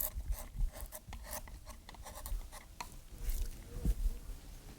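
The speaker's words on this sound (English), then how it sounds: "When I'm carving it too, I kind of twist it a little bit." Carving knife cutting and rounding over wood held by a professional furniture carver, rapid dry scraping and shaving strokes in uneven bursts, close up with no talking.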